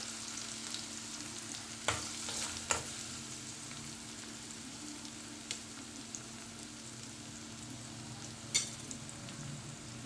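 Chopped onion sautéing in a pan with cumin for a cabbage and peas sabzi, a quiet even sizzle with occasional spoon knocks against the pan.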